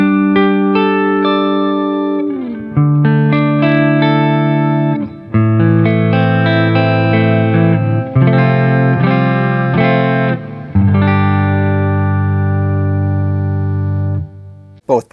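A budget Les Paul-style electric guitar plays clean on the neck pickup, sustained chords and single notes ringing loud and close with slight effects sheen and changes every couple of seconds, no talking.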